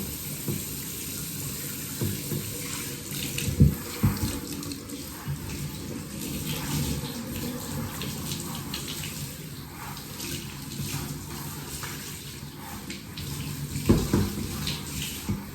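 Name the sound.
running water bathing a groodle dog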